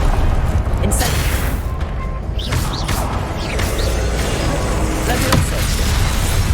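Fiery spell blasts in the video game Hogwarts Legacy: loud booming, crackling bursts with whooshing impacts over constant game music and ambience, one strong hit near the end.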